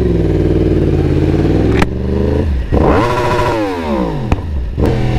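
An engine revs loudly several times, pitch sweeping up and down between sharp pops, close and continuous with no talk.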